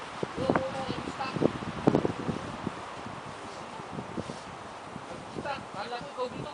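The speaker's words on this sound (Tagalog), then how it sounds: "Ooh, windy." Wind from a February winter snow storm in Germantown, Maryland, buffets the microphone as a steady, rough broadband roar, while people talk over it.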